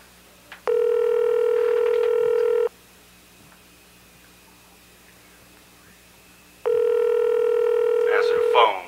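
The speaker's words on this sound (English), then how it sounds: "Answer the phone" A telephone rings in a 1994 gangsta rap album skit: two long, steady electronic ring tones, each about two seconds, separated by a four-second pause, loud and close over faint background hum.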